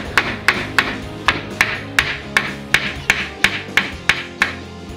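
Hammer blows drive wall anchors with roofing bolts while a Japanese-style minimal sliding door is installed in a home extension, a steady series of about twelve sharp, ringing taps at even intervals, close and loud.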